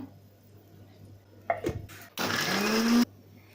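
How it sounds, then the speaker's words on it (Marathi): A mixer grinder whirs loudly for about a second, grinding a wet paste of green chilli, coriander, dry coconut, ginger and cumin with a little water, after some brief clinks and handling sounds. "हे बघा असं पातळ वाटून घ्यायचं आपल्याला"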